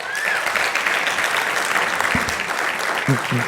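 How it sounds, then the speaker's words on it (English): Lecture-hall audience at an Atlanta Public Schools event applauds themselves, a continuous wash of clapping that holds steady, with faint voices surfacing briefly underneath. "So give yourselves a round of applause for being here."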